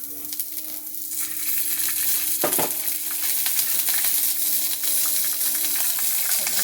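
Three green chilies and ginger roast in hot oil for mutton kuzhambu, a steady close sizzle and crackle with a sharp burst of spattering midway, then continuous frying with no talk.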